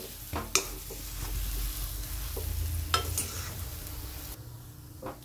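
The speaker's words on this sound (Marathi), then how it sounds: "आता आपण याला पूर्ण हे मसाले याच्यामध्ये मिक्स करून घेऊ।" Mashed potatoes are stirred with spices in a pan for aloo paratha filling, a steady close scraping and stirring with a soft sizzle and a few sharp spoon knocks against the pan.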